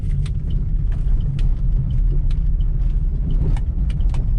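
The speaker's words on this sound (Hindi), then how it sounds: "ये गाड़ी लगभग स्पीड में है और हम टर्न लेंगे" Steady rumble of a car driving at speed through a turn, with a continuous road and engine drone and a few faint clicks or rattles inside the cabin.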